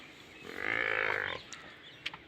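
A domestic buffalo tied up in a farm shed on a frosty day gives one long, loud, close low moo lasting about a second, followed by a few faint knocks.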